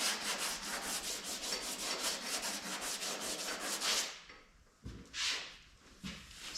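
Scuffing a 1970–81 second-generation Camaro door panel by hand to find low spots in body filler: a steady, rhythmic abrasive rubbing up close for about four seconds, then a few brief separate strokes after a pause.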